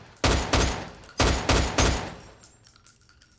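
Gunshots ring out on a shooting range in a comedy film scene, two quick pairs of loud close cracks spaced about a second apart, followed by fainter trailing thuds.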